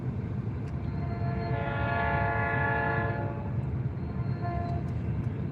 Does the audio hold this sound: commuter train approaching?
yes